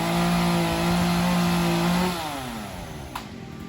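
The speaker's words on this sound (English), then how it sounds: "sawing up the logs." A chainsaw cuts up logs in a backyard garden. The engine sounds loud and close with a steady high whine, then drops in pitch and eases off near the end.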